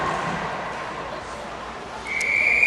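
A referee's whistle sounds at a youth ice hockey game, one sustained shrill blast near the end over a steady rink crowd murmur.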